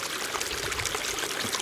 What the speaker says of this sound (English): I've got flowing water here.